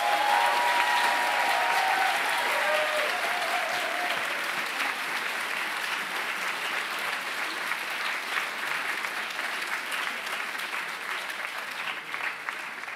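An audience at an eloquence competition final at HEC Paris gives long, sustained applause to welcome a jury member, a dense wash of clapping with faint voices and cheers early on.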